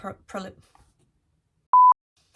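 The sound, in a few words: phone message notification beeps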